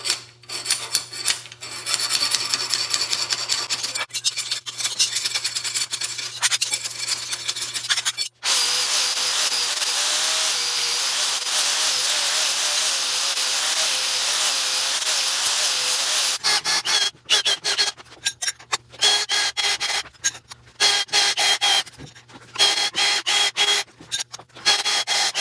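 Power tool tapping threaded holes in rigid metal parts for a shop axle rack, heard as choppy bursts of grinding whir, then one long sustained run, then more short stop-start bursts.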